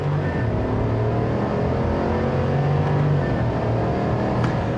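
A 2024 Chevrolet Silverado ZR2 Bison pickup runs at full throttle, its engine a loud, steady, droning roar that rises slightly in pitch from inside the cab, with no talk.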